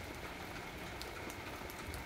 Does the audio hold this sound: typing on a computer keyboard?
no